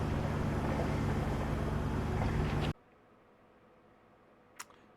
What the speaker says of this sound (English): just motoring along, heading for Port Angeles